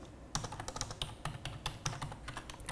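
Password being typed on a computer keyboard, a steady run of crisp, close key clicks with uneven rhythm and a few louder strokes, no voices.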